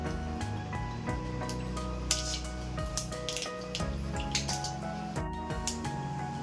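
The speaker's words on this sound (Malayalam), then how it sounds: "കടുക് പൊട്ടിക്കഴിഞ്ഞു." Mustard seeds splutter in hot coconut oil in a frying pan on the stove, a dense run of crisp pops and crackles close by, with faint musical tones running underneath.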